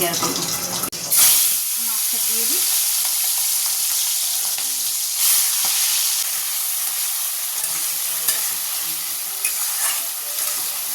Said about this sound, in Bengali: এখানে কড়াই তেল বসিয়ে দিয়েছি কচুর লতিটা করবো বলে এই যে চিংড়ি মাছ এটা আগে ভেজে নিই